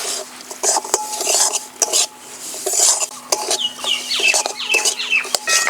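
A spoon scrapes and clinks against a pan while semolina is stirred with cashews and raisins, giving repeated metallic taps and gritty scraping in an uneven rhythm, close and clear.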